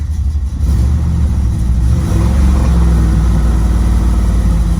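A car fitted with an LT1 engine runs loud and close, holding a steady, rumbling RPM with a slight rise in revs partway through, and no voices over it.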